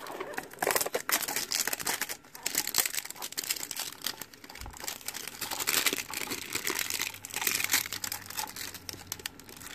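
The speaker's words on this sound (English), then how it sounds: "it's more of just plastic that's wrapped around it here." Clear plastic wrap being peeled and pulled off a UV-protected baseball display case, giving a steady run of close, loud crinkling and crackling that lasts throughout with no speech.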